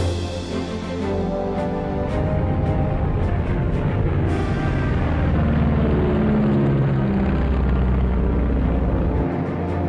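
Avro Lancaster bomber test aircraft with its propeller engines producing a steady, loud, rumbling drone that holds throughout without break.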